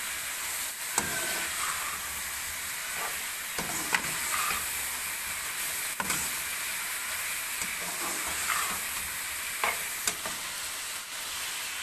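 Spices frying in a pan for a chicken and vegetable macaroni dish, with a constant bright sizzle and a spatula scraping and clacking against the pan every second or two, close up and with no talk.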